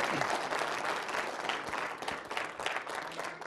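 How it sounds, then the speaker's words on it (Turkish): A stage audience at a Turkish folk music show claps in steady applause, a dense wash of many hands that holds at an even level throughout. "Kocaman bir alkışa hazır olun."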